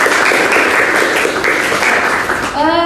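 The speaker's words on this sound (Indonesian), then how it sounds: "Berikan aplaus dulu untuk pertanyaan." Applause from a classroom audience for a student's question during a teaching session, a dense steady clatter of clapping running throughout before fading out at the end.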